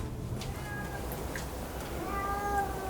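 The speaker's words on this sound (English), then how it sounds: "That's the sound of a cat dying." A cat meows in pain, several drawn-out, wavering cries spaced across a few seconds over a low background hiss, fairly close by.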